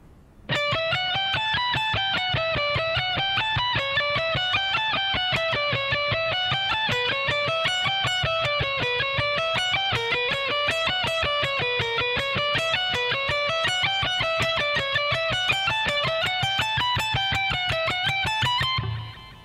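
Distorted electric guitar plays a long repeating lick slowly and evenly, notes climbing and falling in a steady pattern for about twenty seconds, with no talking.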